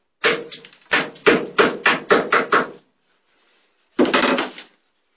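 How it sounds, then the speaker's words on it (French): A chipping hammer knocks welding slag off an arc-welded metal seam, a burst of about eight sharp strikes, a pause, then another quick flurry of taps. "On éjecte donc tout d'abord avec le marteau à piqueter ce rejet."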